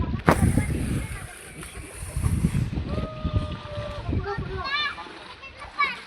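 A small girl wearing a buoyancy can jumps into a lake during a swim outing, making a sharp splash early on and then water sloshing. Voices talk and call out over the scene.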